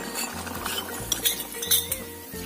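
Tomatoes and thick coconut milk stirred in a pot, with a spoon scraping and clinking against the pot's sides in irregular strokes, close and fairly clear, with no talk.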